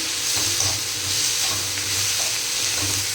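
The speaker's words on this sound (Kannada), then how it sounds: "ಈಗ ನಾನು ಪುದೀನ ಆ್ಯಡ್ ಮಾಡ್ಕೊಳತ್ತೆ ನೋಡ್ರಿ." Mint leaves added to a Hyderabadi-style mushroom masala sizzling in a pan, giving a loud, close, continuous frying hiss with gentle stirring and no voices.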